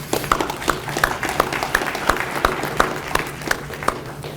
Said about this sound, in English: a round of applause for the adjudicators